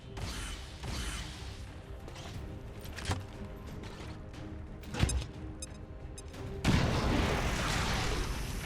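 A grenade going off in the strategy game XCOM 2, with a sharp blast and crash standing out over a steady bed of game noise and mechanical clatter, followed by a louder rumbling wash of debris.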